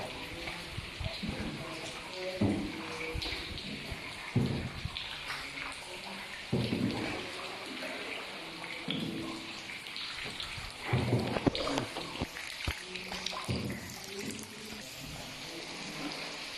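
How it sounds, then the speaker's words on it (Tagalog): Water drips inside a cave among flowstone formations, scattered irregular drops ringing out over a continuous wet background hiss, with people talking faintly in places. "Daming tulo."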